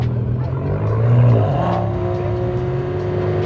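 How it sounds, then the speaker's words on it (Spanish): A BMW 135 holding revs on launch control at the start line of a drag race, a loud, steady engine drone that swells briefly and then holds. "Ahí está, ya cargó el launch el 135."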